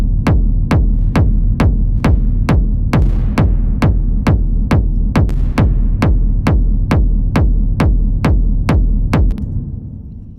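Hard techno with a pounding kick drum hitting at an even, fast pace, each thump trailing a long reverb tail like a reflective warehouse, loud and driving before fading at the end.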